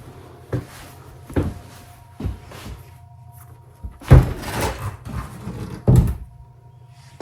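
Sliding fusuma door in a dark, mold-ridden old Japanese house, heard as several close wooden knocks and thuds with a louder rattle and scrape partway through, no talk.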